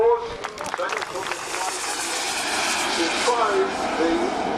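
A propeller aeroplane flies past at an air show on a former RAF airfield at Elvington, its engine a steady droning roar that swells slightly as it passes, with a voice talking over it at the start.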